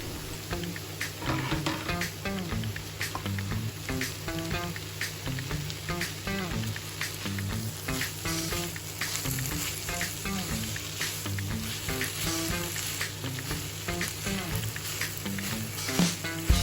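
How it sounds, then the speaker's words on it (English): Chopped carrots for gajar halwa cook in a pan over medium heat, giving a continuous soft sizzle with scattered crackles and pops, steady and close throughout with no talking. "the carrots cook on medium heat"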